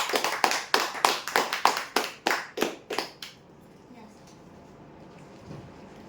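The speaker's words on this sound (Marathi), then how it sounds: "आजच्या ड्रॉचे शेवटचे विजेते जोरदार टाळ्या होत्या यांच्यासाठी" A crowd claps in a quick, even rhythm for a prize draw winner, about a dozen crisp, sharp beats, then the clapping stops and a quiet room tone remains.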